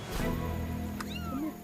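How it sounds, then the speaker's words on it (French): A kitten swimming toward a boat gives a single clear, drawn-out meow, close and fairly loud, standing alone with no talk. "Au loin, un petit chat semble avoir repéré le bateau."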